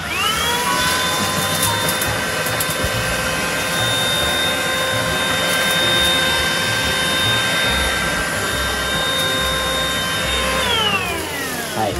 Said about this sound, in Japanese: 掃除機の音が苦手なので申し訳ないんですけど